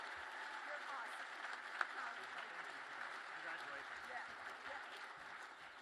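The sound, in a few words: applause for Dick and Virginia at a gala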